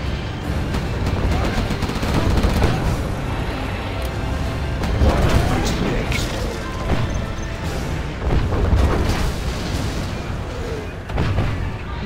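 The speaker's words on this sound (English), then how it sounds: "Gatling cannon is ready." In the strategy game Command & Conquer: Generals, a Gatling cannon fires dense, rapid bursts. The bursts mix with booms and crashing battle noise in an unbroken, loud barrage.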